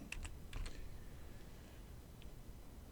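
Several quick keyboard taps on a computer keyboard, entering a football club's name into a browser search bar, a short cluster of clicks near the start and then a lone faint tap against quiet room noise.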